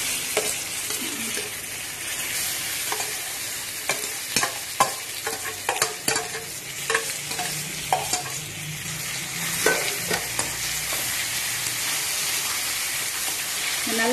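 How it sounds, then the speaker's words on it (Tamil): Ginger, green chili and mashed wild yam fry in oil with a steady, loud sizzle, broken by repeated clattering stirs of a spoon against the pan throughout, with no talking. "இந்த இஞ்சி இந்த பச்சை மிளகாய் இந்த எண்ணெயில நல்ல ஒரு 5 மினிட்ஸ் நல்லா"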